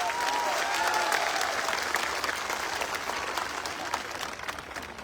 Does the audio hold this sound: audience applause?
yes